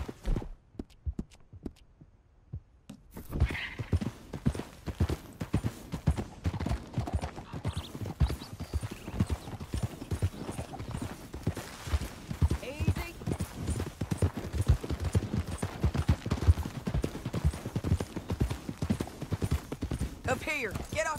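Horse hooves clip-clop steadily in Red Dead Redemption 2 as riders move through a canyon, a rhythmic stream of hoofbeats under game music and character dialogue after a quiet opening.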